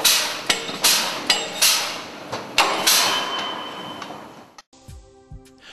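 A hydraulic wrench works on mill bolts, undoing and doing them up, with a rapid series of sharp, loud metallic impacts close by, then a lower mechanical hum.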